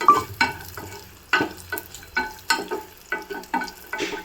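Monaka fried in ghee in a kadai, a soft hiss under a series of sharp scraping and clattering strokes from a spoon against the pan, repeating at an irregular pace close by, with no talking.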